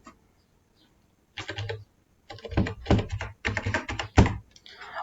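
Someone types a CSC ID on a computer keyboard in several bursts of close, crisp key clicks separated by brief pauses, with no voices.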